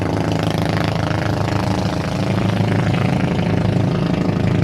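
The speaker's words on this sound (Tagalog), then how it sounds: "Ayan o, mga dumadaan po yung mga bangka dito." Boat motor running on a wide river, a loud, continuous low engine rumble with a fast, chugging rhythm, close by and steady throughout with no speech over it.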